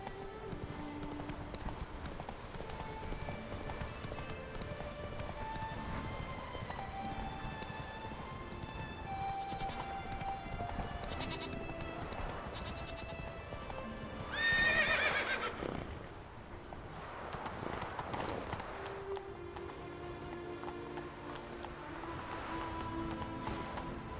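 Roach, a horse in the video game Witcher 3, trots with steady clip-clopping hooves and neighs loudly around the middle, over continuous game music and ambience.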